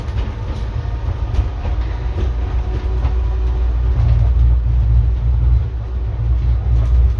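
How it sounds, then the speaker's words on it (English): A London train heading to Paddington rolls steadily along the rails, a loud, continuous low rumble with faint rattling, close by and with no voices. "we just got to do now is catch a train back to Paddington"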